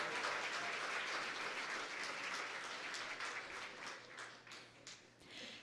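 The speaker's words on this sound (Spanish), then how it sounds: "Fuerte el aplauso para los 12 participantes." Faint, sustained applause for twelve participants at a regional oratory contest in Darién, Panama, a dense clapping wash that thins and becomes more scattered toward the end.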